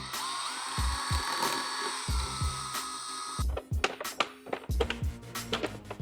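A power drill with an extension whines steadily while removing front fairing bolts on a 2022–2025 Harley-Davidson Low Rider ST, then gives way to short bursts and ratcheting clicks as the bolts come free.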